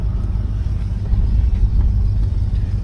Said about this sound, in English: Motor sounds nice. No ticking or anything.